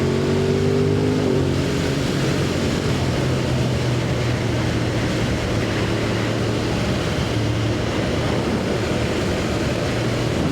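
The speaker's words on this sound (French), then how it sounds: "Comment sa moto pète, c'est n'importe quoi la famille." A Yamaha MT-10 motorcycle engine roars loud and continuous throughout a ride, with a shifting drone like a steady rev and no talk.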